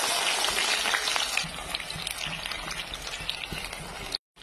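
Whole cloves and cinnamon crackle and sizzle in hot oil in a wok, a bright, busy frying hiss at moderate volume with small pops, ending in a sudden brief silence.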